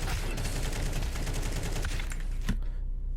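Shotgun fire in Counter-Strike 2, a dense crackling run of rapid gun blasts heard close, ending in one sharp final shot and a quick fade.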